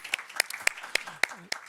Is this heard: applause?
yes